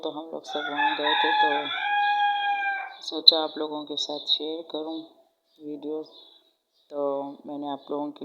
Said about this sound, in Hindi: पीछे मुर्गे की आवाज़ आ रही है, वो अजान दे रहा है